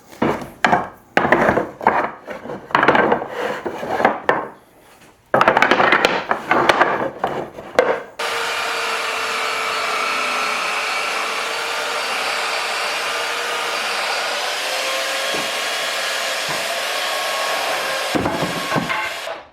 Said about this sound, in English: So you can definitely see what a few minutes of sanding does here.